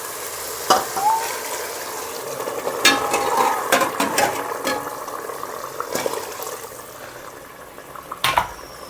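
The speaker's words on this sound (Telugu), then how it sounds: "తర్వాత దీంట్లో 1:2 రేషియోలో వేడి చేసుకున్న వాటర్ వేస్తున్నా." Heated water poured into a pot of fried rice mixture while making Andhra-style bagara rice, a steady wet rushing and sizzle with scattered clinks of utensils, close and moderately loud, with no talking.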